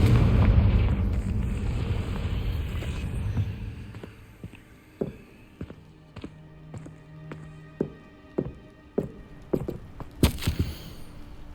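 Confringo fire spell in Hogwarts Legacy: a loud booming blast opens, its rumble fading over several seconds, followed by scattered light footsteps and small pops that grow sharper toward the end.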